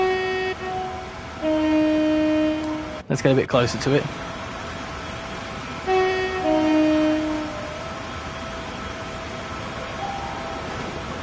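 A Class 390 electric train in Train Sim World 5 on the West Coast Main Line, heard from outside: sustained two-tone horn blasts, a sharp clattering burst, then a steady electric hum with a talking voice.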